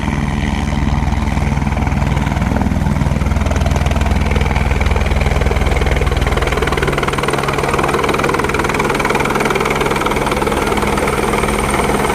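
A helicopter's engine and rotors roar close and loud for the full stretch, a steady throbbing drone that shifts slightly partway through.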